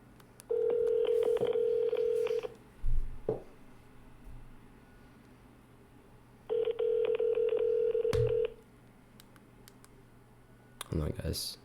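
Two long, steady keypad dialing tones, each about two seconds, sound during a phone call, separated by clicks and a short thump, with more clicks at the end and a voice speaking faintly in between.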